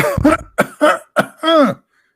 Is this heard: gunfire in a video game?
no